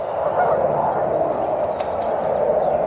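A flock of geese honks continuously and loudly, their overlapping calls forming a dense, steady clamor nearby.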